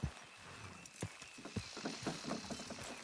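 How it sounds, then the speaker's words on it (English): In Red Dead Redemption, horses strain while pulling a structure down, their hooves clopping in an irregular rhythm at moderate distance, faint and scattered over a low background rumble. "Horses will pull it clean down."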